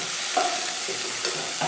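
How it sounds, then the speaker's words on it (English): Steady, close sizzling and crackling of beans frying in a pan on medium heat, a continuous hiss with small pops. "You can hear them sizzling."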